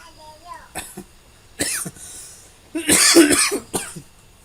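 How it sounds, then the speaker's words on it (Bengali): Several coughs burst out in clusters, close and fairly loud, with a louder run of harsh coughing near the end and quiet breaths between, inside a room with a fan running. "কাশি হয়েছে।"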